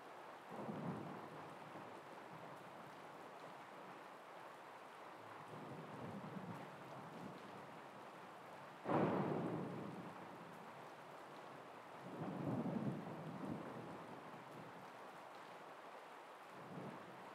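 Rumbling thunder and steady rain from a giant storm cloud in the video game Zelda: Tears of the Kingdom, with a sharp loud crack midway and several rolling swells of thunder over continuous rainfall.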